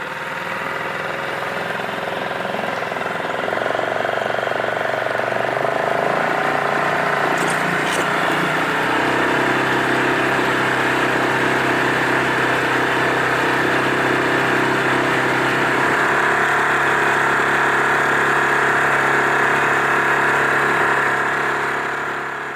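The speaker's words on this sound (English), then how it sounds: "I left the cold outboard to warm for a few minutes before setting off up the loch." A cold outboard motor idles steadily on a boat by a Scottish loch in winter, a continuous close mechanical drone that settles into a slightly lower, smoother note after several seconds, with no voices.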